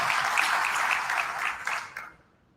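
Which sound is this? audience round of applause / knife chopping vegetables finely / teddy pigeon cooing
audience round of applause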